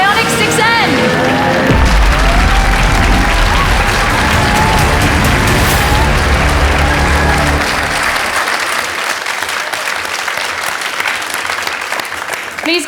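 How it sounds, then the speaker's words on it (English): A large outdoor crowd at the world premiere of the Hyundai IONIQ 6 N at the Goodwood Festival of Speed bursts into loud sustained applause and cheering, the clapping dense and close, with a voice heard over it early on. "Please give a big round of applause"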